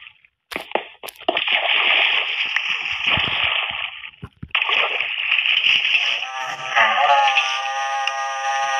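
Water splashes and sloshes steadily in a Minecraft survival game, a continuous gurgling wash broken by a brief gap, then resuming loud and close.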